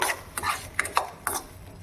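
A spoon scrapes and clatters against a pan as tomatoes with curry leaves are stirred and fried for chutney, giving a handful of short, close knocks and scrapes with quiet pauses between them.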